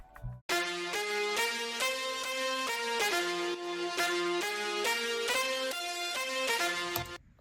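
A bright synth lead from a Serum patch in the Echo Soundworks Grey V1 pack plays a rhythmic chordal riff of repeated stabs, loud and up front for several seconds.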